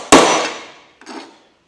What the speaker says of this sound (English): Not the proper hammer, but it's going to work.